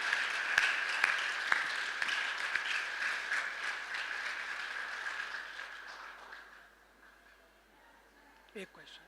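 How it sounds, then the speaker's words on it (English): A big round of applause from the crowd at a live spiritual gathering with Pujya Swamiji and Sadhviji: a dense, sustained wash of clapping that slowly fades to near quiet. "Let us give a big round of applause to them also."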